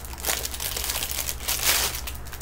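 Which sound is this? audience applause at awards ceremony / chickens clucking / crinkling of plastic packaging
crinkling of plastic packaging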